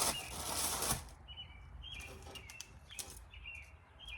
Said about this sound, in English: Some bird that's having a good time.